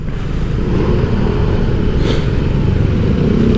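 Honda Genio scooter weaving through traffic, its small engine droning steadily beneath heavy wind buffeting and the rumble of nearby vehicles, loud and continuous with no speech.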